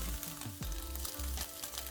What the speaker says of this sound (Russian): когда он выпарится, говядина начнет поджариваться